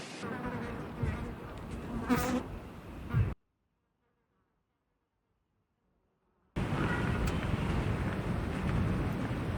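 A dense swarm of bugs buzzes loudly around a van in a constant, close drone, cut by a few seconds of dead silence before the buzzing returns just as thick.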